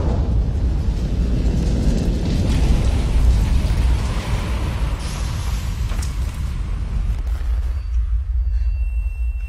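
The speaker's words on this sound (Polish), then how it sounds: "Wybuchła kolejna bomba." A deep, rumbling roar of a large bomb explosion that keeps booming and churning for several seconds before thinning out into a low, dull rumble.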